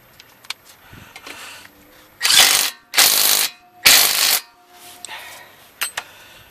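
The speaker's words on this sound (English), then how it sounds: "Then you take the 13mm and you put it back in." Ratchet wrench tightening a 13mm bolt on a 2006 Volkswagen Touareg front brake caliper, three loud bursts of rapid clicking close by, surrounded by sparse small metallic taps and handling noises.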